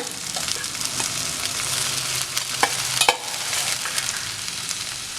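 Fried okra (ladies finger) is stirred in a pan over a medium flame, a continuous close sizzle with scattered scraping clicks of the spoon, and no talking.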